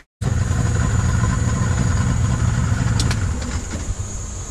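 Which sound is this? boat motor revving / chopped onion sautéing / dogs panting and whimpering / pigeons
boat motor revving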